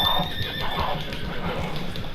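A horse in Red Dead Redemption 2 whinnies briefly while wolves give chase, the call sitting under a steady wash of game ambience and hoof noise.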